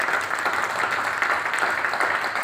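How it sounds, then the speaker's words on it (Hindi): A crowd at a business gathering applauds steadily with dense, continuous clapping throughout, moderately loud and without interruption. "एक बार जोरदार तालियां"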